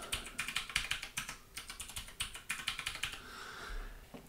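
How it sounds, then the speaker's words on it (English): Rapid, fairly close computer keyboard typing as a password is entered, bursts of crisp key clicks in an uneven rhythm with a brief pause near the end, no talking. "We're going to call the user Joe Smith. And set a password."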